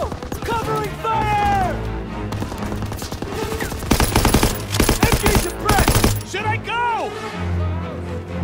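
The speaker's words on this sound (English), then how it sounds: "Suppressing fire. Move up. Go, go, go. Covering fire." Rapid bursts of machine-gun fire and rifle shots crackle through a Call of Duty WW2 battle, dense volleys stacking up with a loud fusillade near the middle, while soldiers' voices shout over the gunfire.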